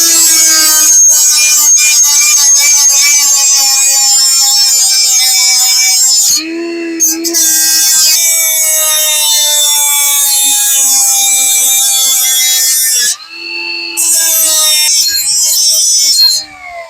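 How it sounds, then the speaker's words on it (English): Die grinder working on a Honda Civic EF, a loud high-pitched whining tool that runs continuously, dipping in pitch twice as it bears down under load before spinning back up. "Switch back to the die grinder here."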